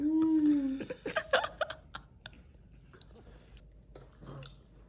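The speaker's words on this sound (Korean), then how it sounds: "좀 천천히 씹어 먹어." Food is chewed close to the microphone in a series of quick, moist bites and munches, after a short vocal sound and some soft laughter, fading to quieter chewing.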